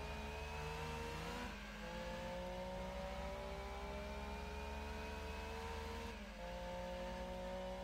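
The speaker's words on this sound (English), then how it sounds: "that sound I can hear in my ears probably has to be the turbo" A turbocharged hatchback racing in Gran Turismo 2 during a Micra Trophy event, a steady engine drone with a thin high whine rising slowly over several seconds, dipping briefly at two gear changes.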